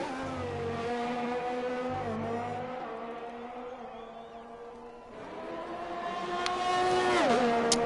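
Race car in a racing video game lapping the Brazil circuit, a high-pitched engine whine rising and falling through gear shifts and accelerations, steady and close throughout.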